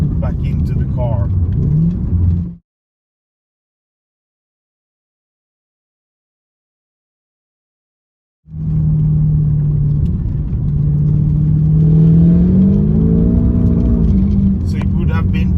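A manual Porsche Panamera S with a V8 engine and upgraded exhaust runs in winter, giving a steady deep drone. It stops for several seconds of complete silence, then resumes with a slight rise in pitch toward the end.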